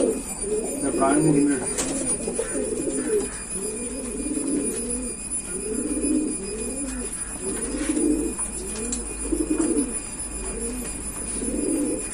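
Racing pigeons that have flown in a tournament coo in a steady, repeated rolling rhythm close by, a continuous chorus of several birds with a faint background hiss.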